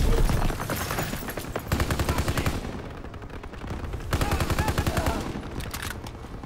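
Heavy automatic gunfire in Call of Duty WWII, loud bursts of rapid shots in two long volleys with a short lull between, close and dominant throughout.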